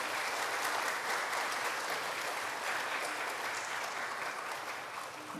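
A standing church congregation applauding together during a general worship service to welcome three people, a dense steady clapping that holds evenly for several seconds and fades slightly at the end.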